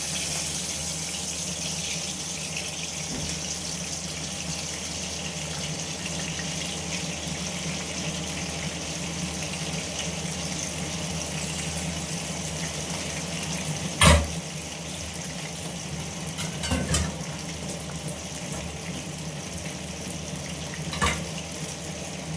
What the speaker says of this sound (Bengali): গ্যাসের ফ্লেমটা বাড়িয়ে দিয়ে চিংড়ি মাছটা একটু বেশ লাল লাল করে ভেজে নেব।